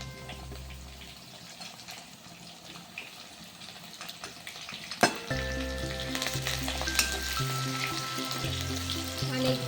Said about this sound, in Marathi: कांदा सोनेरी रंग येईपर्यंत परतून घ्या बघा कांद्याला असा सोनेरी रंग येईपर्यंत परतून घ्यायचा आहे